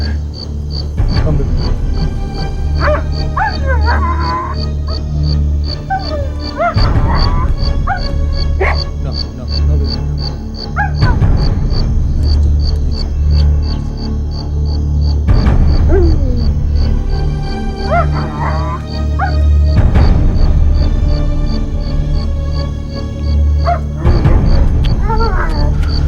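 A dog barks in a crime drama scene, short loud bursts repeating every few seconds over a steady background hum while people talk.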